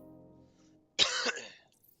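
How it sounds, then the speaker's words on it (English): A single sharp, close cough bursts out after a moment of quiet, followed by a brief raspy tail. "Just a little cough."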